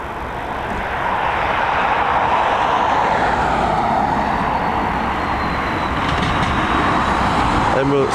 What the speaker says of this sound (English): this A330 now well into its final stages of descent here at